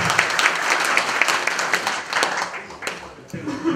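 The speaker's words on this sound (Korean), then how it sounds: "일괄 다시 한번 박수로 통과하겠습니다." Union delegates applauding at an assembly meeting to approve a motion, dense clapping from a large crowd that swells and then tapers, with voices talking over it.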